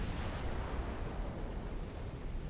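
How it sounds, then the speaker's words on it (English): Torpedoes detonate against warships in a naval war game, making a dense, continuous rumble of overlapping explosions that fills the whole stretch at steady loudness with no talk over it. "I love seeing those torpedo detonations"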